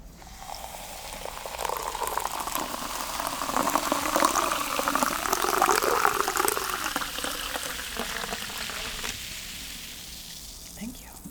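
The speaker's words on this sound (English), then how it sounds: "May the pouring commence." Black cherry sparkling water poured into a glass, a continuous fizzing, hissing rush that swells in the middle and tapers off, close and fairly loud.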